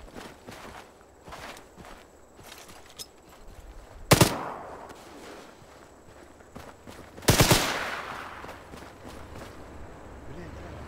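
Weapons fire in a military video game: two loud, heavy bursts a few seconds apart over a low background of footsteps and movement, with people talking.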